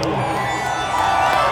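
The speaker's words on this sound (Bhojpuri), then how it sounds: "चारों तरफ से एक बार रमेश भैया के नाम पे जोरदार ताली हो जाए।" A concert crowd at a stage show in Ranchi cheers and claps in a steady, dense roar of voices and applause that holds at an even level throughout.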